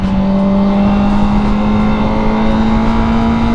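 Honda CBR1000RR-R SP Fireblade engine pulling on an open highway, a steady loud drone with a slowly rising pitch under wind rush, close and continuous.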